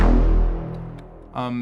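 A low, booming tone swells and fades into a long wash of reverberant tail from Fruity Convolver convolution reverb at default settings, then a second bright, resonant hit rings out near the end.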